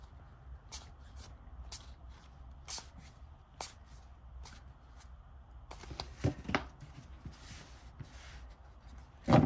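A gilded, sparkly gold-edged tarot deck is shuffled at close range in a series of quick riffling bursts, growing denser and louder toward the end.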